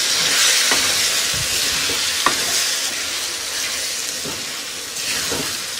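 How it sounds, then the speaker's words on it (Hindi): Eggplant curry with turmeric, coriander powder and salt fries in a pan, a constant close sizzle broken by occasional spatula scrapes and knocks, no speech. "अब हम इसको 5 से 6 मिनट अच्छे तरीके से भूनेंगे और बहुत ज़्यादा इसको हिलाएंगे नहीं ताकि ये बैंगन इसी तरीके से रहे"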